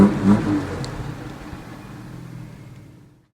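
A bus engine revs hard at first, then settles into a steady mid-pitched running note that fades out toward the end, with no voices over it.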